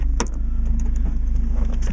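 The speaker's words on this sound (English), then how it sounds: "You get out and let you listen to that exhaust." Low, steady exhaust burble from a 1994 Mazda Miata idling, a continuous even rumble heard close with a brief metallic rattle near the start.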